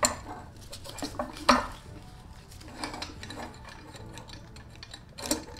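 A metal turbocharger for an Audi B5 S4 being maneuvered into place on its flange, with scattered metallic clinks and knocks, a few sharper taps standing out against a quiet background.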